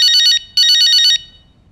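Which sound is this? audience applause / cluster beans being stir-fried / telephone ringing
telephone ringing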